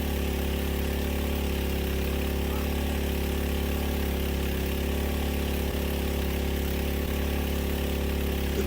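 A steady engine drone from a mud pump powering well drilling, with a 3-inch casing reduced down to 1 inch; the loud, constant low rumble runs without a break and no one speaks.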